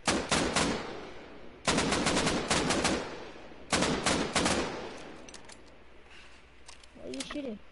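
AK rifle gunfire in a video game, three loud bursts of rapid automatic shots spaced about two seconds apart, close and sharp, with brief talk at the end.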